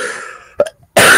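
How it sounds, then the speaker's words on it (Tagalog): A person with a worsening cough gives two short, harsh coughs close to the microphone, the second one louder and more forceful, with a brief silence between them. "Malala na naman yung ubo ko."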